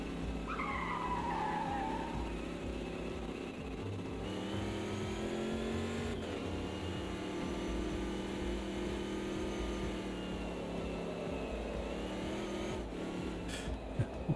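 Tyres squeal and skid over a steady engine drone in the AMS2 racing game as a car weaves to warm its tyres, the squeal high and sustained early on, then the engine note running on alone.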